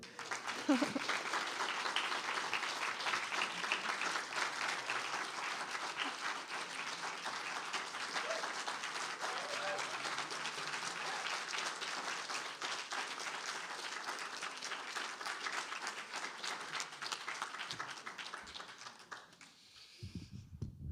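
Audience applause follows a poetry reading by Vievee Francis, a dense sustained round of clapping from a crowd lasting nearly twenty seconds before tapering off abruptly at the end.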